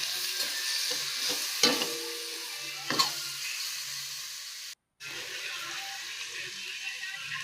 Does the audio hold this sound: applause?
no